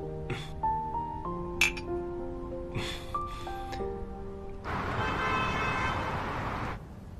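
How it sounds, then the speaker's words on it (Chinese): Glasses clink together in a celebratory toast between two people, giving a few bright ringing chimes in quick succession, followed by a steadier hissing wash of sound. "庆祝你回国，干杯。"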